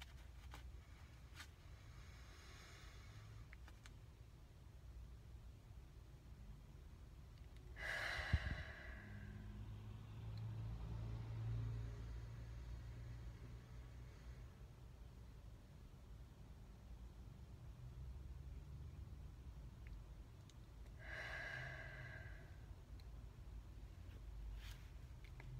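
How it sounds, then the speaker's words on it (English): Two slow, deep breaths, each a soft broadband whoosh of air, the first around eight seconds in and the second near twenty-one seconds, separated by a quiet stretch of low room hum with no talking. "take two deep breaths"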